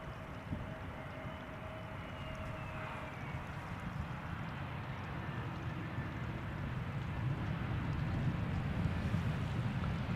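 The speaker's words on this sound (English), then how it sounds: "wind is picking up a little bit, but that's typical" Wind blowing at Amsterdam Schiphol Airport, a steady low rumbling buffet against the microphone with a faint distant drone, constant throughout.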